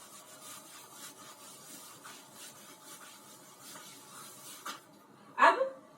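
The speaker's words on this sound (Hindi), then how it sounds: "मैं इसको रब करती हूँ" Writing being rubbed off a classroom board, soft repeated scrubbing strokes at a moderate distance, ending in a brief louder knock, with no talking.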